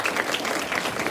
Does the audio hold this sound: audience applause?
yes